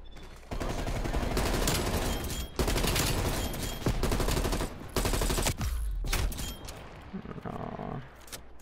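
Rapid bursts of AK-74 automatic gunfire in a video game, loud and close, coming in several sustained volleys with brief gaps between them, then tapering into quieter shots near the end.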